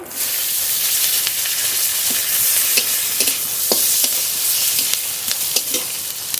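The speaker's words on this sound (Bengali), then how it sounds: "রসুনটা একটু ভাজা ভাজা করে নিয়েছি" Steady frying hiss from garlic in a pan, broken by occasional clinks and scrapes of a utensil stirring, close by with no talking.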